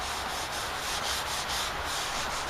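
Steady, close rubbing of Old English polish by hand across a wooden tabletop, a continuous dry swishing that swells and fades in slow strokes with no talking.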